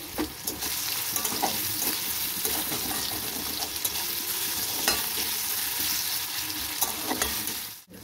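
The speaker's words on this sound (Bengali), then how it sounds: "কাঁচা পেঁয়াজের গন্ধটা না লাগে তাই হালকা করে ভেজে নেব।" Onion and garlic fry lightly in a pan with a steady, close sizzle, broken by scattered clicks and scrapes of stirring and ending in a sudden brief drop.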